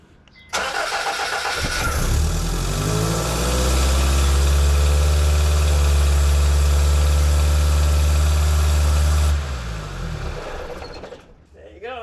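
A car engine cranks and catches, then settles into a steady, loud idle with a deep, throaty rumble for several seconds before shutting off, heard close up with no talking.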